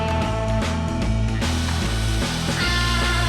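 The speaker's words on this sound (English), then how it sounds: "I need to drill out the acrylic to where the holes can go" A drill bores holes in an acrylic sheet, a loud, close, steady mechanical grinding with a rapid repeating rattle and occasional shifts in pitch as the bit bites into the plastic.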